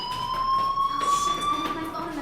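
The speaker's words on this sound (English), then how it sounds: "Hey, do you hear that fire alarm?" A school fire alarm in Life is Strange rings as a steady high electronic tone with harmonics that hold through the whole stretch, fairly loud and unbroken, with faint background activity beneath.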